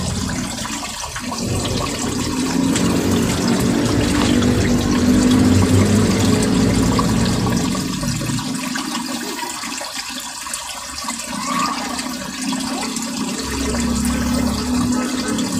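Water gushes and rushes steadily as it overflows from a laundry tub, loud and continuous with a churning, pouring texture that dips in the middle before swelling again.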